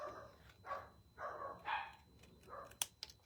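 Several dogs bark in short bursts in the background, somewhat distant, with a sharp click near the end.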